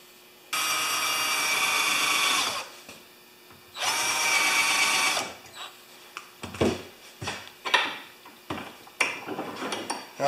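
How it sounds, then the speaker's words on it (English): A power drill starts screw holes in wood for a carpenter's vise install, two close whining bursts of a couple of seconds each, followed by scattered knocks and clatter of tools being handled. "I'm just going to start the holes and then I'll take the vise out"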